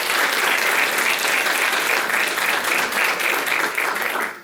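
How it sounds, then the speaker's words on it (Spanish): Strong, sustained audience applause at a book presentation in Buenos Aires for a translator, a thick steady wash of many hands that tapers slightly at the end. "quiero un fuerte aplauso para ella, Estela Consigli, traductora del libro de Peter James Hudson"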